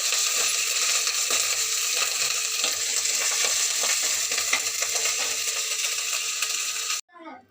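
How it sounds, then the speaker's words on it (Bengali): Spices frying in a pan for a fish curry, a loud continuous sizzle with scattered metallic clinks and scrapes of stirring, cutting off abruptly near the end into a brief quieter sound. "আর এই যে মাছের ঝোলটার জন্য মশলা ভাজছি"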